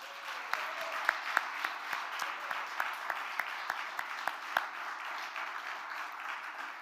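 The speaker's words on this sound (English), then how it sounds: "Please join me in a heartfelt round of applause for Renee" A round of applause at a conference honors dinner, steady clapping from a banquet audience with some individual claps standing out sharply above the wash.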